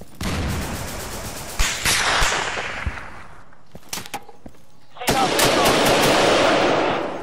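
Rapid bursts of automatic gunfire aimed at the player in the shooter game Insurgency, loud and close, pausing briefly mid-clip before a dense new volley resumes, with a voice faintly under the shots.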